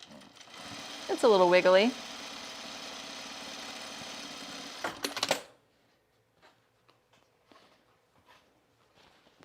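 A sewing machine topstitches the hem of a pair of Ash jeans with topstitch thread from the right side, running steadily for about five seconds under a speaking voice, then falling quiet.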